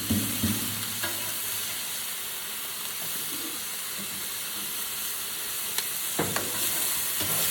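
A frozen tortilla frying in oil in a pan for a copycat Mexican pizza, a continuous loud hissing sizzle with occasional scrapes and knocks, no talking.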